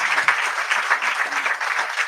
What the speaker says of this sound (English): Please, a round of applause for Uncle Sam.